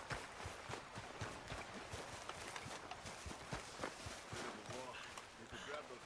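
Rhythmic clip-clop of horse hooves at a steady trot in Red Dead Redemption, fairly close and continuous, with ambient game sounds and a voice occasionally underneath.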